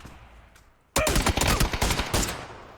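Loud burst of rapid gunfire in the battle royale game PUBG during a competitive pro scrim match, erupting after near silence and continuing as a dense fusillade of cracking shots for about two seconds.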